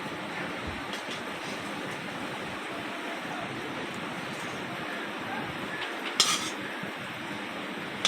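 Semolina biscuits fry in a pan and are turned over: a steady, quiet sizzling hiss runs throughout, with one brief clink of a utensil against the pan near the end.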